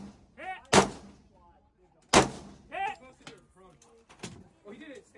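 Two sharp rifle shots crack out in the open at a competitive shooting stage, each a loud broadband burst, with people talking in between and afterward.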